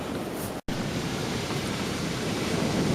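Steady, dense roar of cold wind buffeting the microphone outdoors on Chesil Beach at West Bexington, Dorset, loud and continuous, with a brief dropout near the start.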